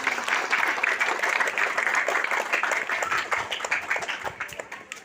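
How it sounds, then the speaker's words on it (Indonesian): Applause breaks out in a church congregation in honour of Jesus Christ at a farewell gathering for a priest, a dense steady patter of many hands that slowly thins toward the end. "Tepuk tangan untuk Tuhan Yesus Kristus."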